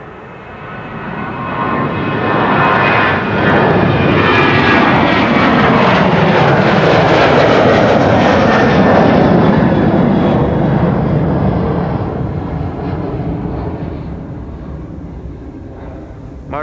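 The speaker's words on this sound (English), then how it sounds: "One being an Embraer 190 to Stuttgart, which is already on the move over here." Embraer 190 jet taxiing for departure at Amsterdam Schiphol Airport, its broad engine roar swelling up close, holding loud for several seconds, then slowly easing off as it moves away.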